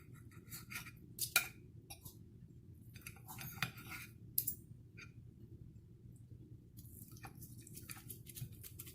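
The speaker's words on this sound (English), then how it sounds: "I'm going to cut up this chicken" Cooked chicken is cut into chunks for a casserole, giving quiet knife clicks and clinks on a plate or board. The taps are irregular and close, with a few sharper knocks in a mostly hushed kitchen.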